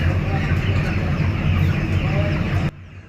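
Many chickens cluck together at a poultry farm in a dense, constant chatter, close and loud, which stops abruptly near the end.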